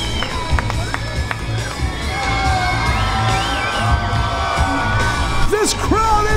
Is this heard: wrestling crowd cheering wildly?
yes